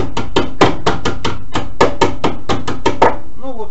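A hammer taps down the raised edge of a dent in a car body panel during homemade paintless dent repair, a quick series of about a dozen sharp metallic knocks in steady rhythm, close and loud.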